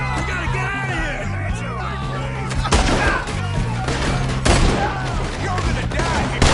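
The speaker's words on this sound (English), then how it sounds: "Shoot that man!" Gunfire in the video game Red Dead Redemption II, a few heavy shots and booms ringing out amid a chaotic shootout, mixed with shouting voices and character dialogue.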